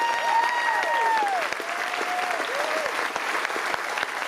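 An audience on a cruise ship applauds the pianist Arena in a steady wash of clapping, while sustained, gliding musical tones ring over the top throughout.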